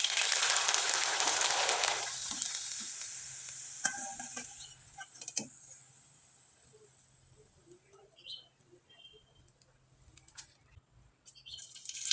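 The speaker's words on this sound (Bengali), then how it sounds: "একইভাবে কয়েকটা পিঠা আমি আপনাদের ভেজে দেখিয়ে দিচ্ছি" Rice syringe pitha, made from leftover cooked rice, frying in hot oil, with a dense sizzling hiss strongest in the first two seconds, then a softer crackle with scattered stirring clicks and taps.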